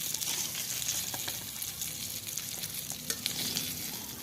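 Koi fish frying in hot oil in a wok, a steady dense sizzle that runs without a break, with a few faint scrapes and pops over it.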